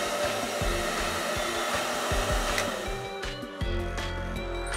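A hair dryer blowing steadily with a constant whirring hum, close and fairly loud, with small clicks and shifts toward the end.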